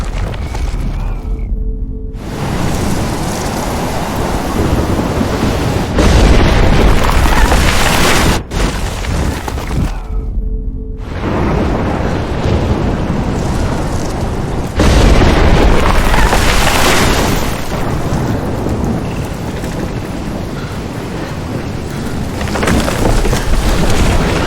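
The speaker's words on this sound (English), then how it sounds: "Never seen a storm like this in Oregon." Heavy storm with rumbling thunder and tornado winds in Life Is Strange, set in Oregon; loud sustained roaring wind and rain with repeated deep booming surges, briefly cut by two sudden silences.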